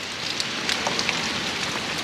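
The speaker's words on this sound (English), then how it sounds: "It's raining" Rain falls outdoors in a steady, fine patter with scattered small drops ticking close by, an even hiss throughout with no voices.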